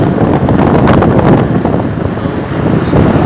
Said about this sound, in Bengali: ভালোই ঠান্ডা হাওয়া আছে